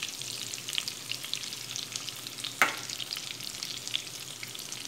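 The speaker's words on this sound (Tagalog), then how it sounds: "Prito ng bahagya." Eggplant slices fry in hot oil, a constant soft sizzle and crackle with one sharp spatter partway through, heard close and alone.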